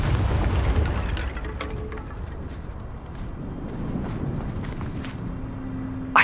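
A Confringo fire spell bursting in Hogwarts Legacy: a heavy, booming explosion that rolls out and decays over several seconds, ending in a sharp crackle.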